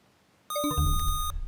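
A single electronic quiz buzzer blares for nearly a second, a sustained harmonic tone with a sharp onset, then cuts off; no voices.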